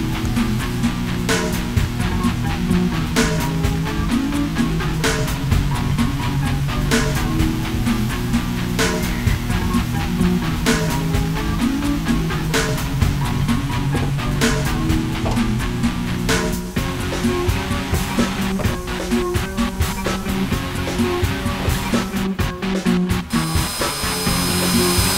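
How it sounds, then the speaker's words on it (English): A power drill bores a pilot hole from underneath for a hood pin installation on a car, a loud, continuous whirring grind close by with no pauses. "Now, I'm going to drill a pilot hole from the bottom"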